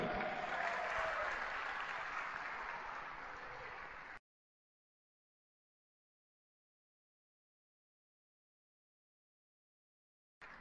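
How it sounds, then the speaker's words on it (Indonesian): An audience bursts into loud, broadband applause for a few seconds before it cuts off abruptly into silence. A brief return of clapping comes at the very end. "berikan aplaus buat upline Anda Bapak Ibu"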